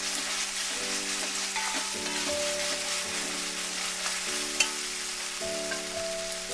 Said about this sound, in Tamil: இதையும் போட்டு நல்லா அந்த எண்ணெயிலே வதங்கட்டும், பச்சை வாசனை போகிற வரைக்கும்.